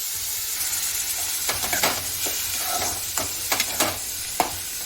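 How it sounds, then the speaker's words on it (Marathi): Tomatoes sautéed in a hot pan give a continuous sizzle, broken by several sharp scrapes and clinks as a spoon stirs them, close and fairly loud with no talk. "हे टमाटर पण टाकून देते आपल्याला याला शिजवायचं आहे फक्त असंच परतून घ्यायचं आहे दोन मिनटं"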